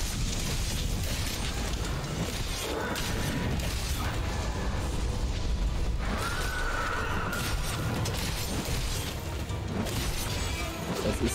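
A Kirin monster from Monster Hunter World gives a short, thin neigh midway through a dense, loud wash of battle noise, crashes and music.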